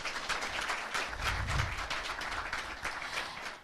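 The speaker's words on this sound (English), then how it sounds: "another round of applause for His Excellency" Sustained applause from a crowd honouring the President of Ghana at a formal business gathering, steady dense clapping at moderate distance with no voices over it.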